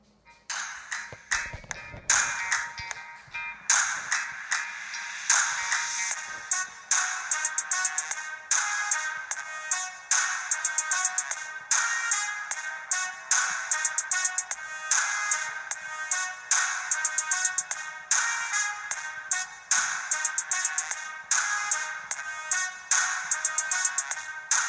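A Laxasfit GT7 Ultra smartwatch plays music through its small built-in speaker, a thin, tinny, bright melody with a regular plucked rhythm that carries on steadily throughout, close and fairly loud.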